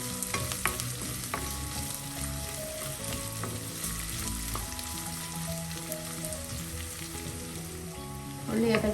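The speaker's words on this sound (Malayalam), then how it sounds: "അതോടൊപ്പം എണ്ണയിലൊന്ന് മൂക്കട്ടെ." Onions and chili flakes fry in hot oil with a steady, dense sizzle while being stirred, occasional scraping clinks cutting through, and the sizzle swells louder near the end.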